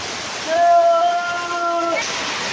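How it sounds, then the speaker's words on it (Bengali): Heavy rain falls steadily outside a village house, heard from indoors as a constant rushing wash, with a person speaking briefly over it. "এই যে বাড়ির ভেতরটা কত বৃষ্টি হচ্ছে দেখো।"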